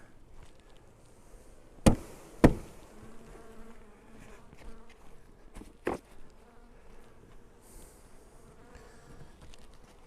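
Bees buzzing around a hive in warm winter weather, a faint steady hum with a few sharp knocks and thumps as bees are knocked off the hive parts.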